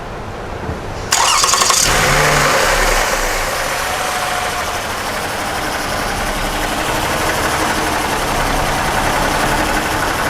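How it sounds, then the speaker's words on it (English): A 2000 Chevrolet Camaro SS engine cranks and fires at a service bay after an oil change, catching about a second in with a loud burst and then settling into a steady, strong idle that runs to the end. "We're going to start the motor once we put oil in it"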